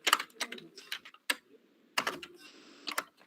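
Quick, uneven bursts of computer keyboard typing while someone writes code, with close, crisp key clicks separated by short pauses.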